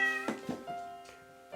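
A Bengal cat meows several times in quick succession, close and clear, with a tonal, drawn-out cry and a couple of shorter chirpy meows, with no talking around it.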